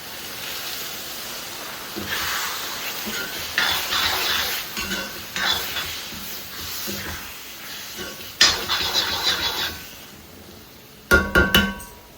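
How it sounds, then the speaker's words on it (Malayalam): Vinegar and boiling water are poured into a pickle mixture in a kitchen and stirred, giving a wet hiss with scraping and clattering against the container and several sharp knocks near the end. "വിനാഗിരിക്കൊപ്പം തന്നെ ഞാനിവിടെ ഒരു 1/4 കപ്പ് തിളച്ച വെള്ളം കൂടി ഒഴിച്ചു കൊടുക്കുകയാണേ"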